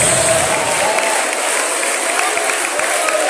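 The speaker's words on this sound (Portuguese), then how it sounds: "Eu quero que você bata palmas e glorifique o nome de Jesus." A church congregation claps continuously in a dense, even roar of many hands, loud and close throughout, with faint voices blended into the crowd sound.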